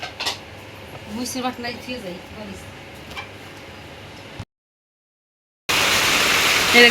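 A voice is heard first, then a brief silence, then a loud, dense, steady roar of heavy rain pouring down nearby.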